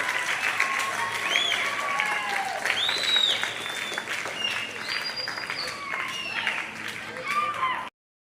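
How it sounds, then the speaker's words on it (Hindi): Sustained applause from a crowd at a ceremony in Kot Addu honoring Abdul Majeed Khan Mirani, steady clapping with whistles and cheers for about eight seconds before stopping abruptly. "बहुत ज्यादा तालियां जनाब अब्दुल मजीद खान मिरानी साहब के लिए"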